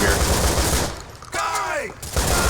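Gunfire from an American firearm in GTA IV, a dense burst of rapid shots at close range that breaks off midway while a short voice rises and falls, then the firing resumes.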